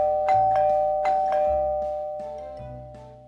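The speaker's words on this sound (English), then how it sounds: "the doorbell rang." A doorbell rings with clear, loud chimes, several ding-dong tones that overlap and fade out slowly, with no voices.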